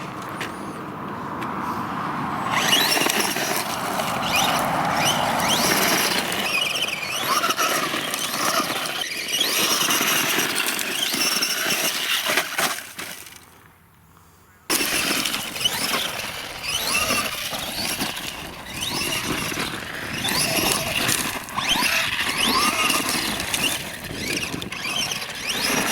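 An RC car powered by a HobbyKing 3S LiPo battery whines and squeals loudly and close by as it races around, its high motor pitch steady apart from a brief drop near the middle.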